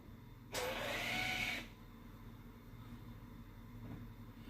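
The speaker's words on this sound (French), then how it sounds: "Voilà, on entend le petit bruit. Les plaquettes qui sont en train de se serrer." A Volvo XC60's electric parking brake motor clamps the pads with one brief mechanical whir lasting about a second, moderately loud and close, then fades into a quiet room hum.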